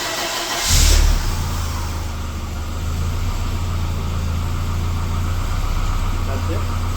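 A Volvo 240 engine cranks and fires up with a brief loud burst near the start, then settles into a steady, close idle that keeps running to the end, with a person speaking over it.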